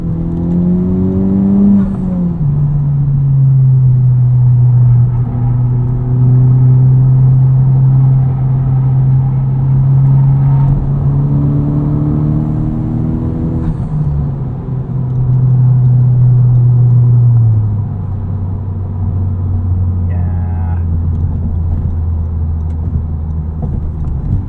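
A modified 2021 Honda Civic Type R drives steadily, its engine droning loud and close with rising and falling pitch through gear changes, a brief dip mid-run and a steady cruise at the end, with no talking.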